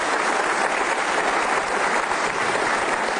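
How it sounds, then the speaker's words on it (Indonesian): A studio audience at an Indonesian televised talk show claps steadily, a loud, even wash of applause sustained throughout with no voices on top. "Boleh dong tepuk tangan untuk Romi 10."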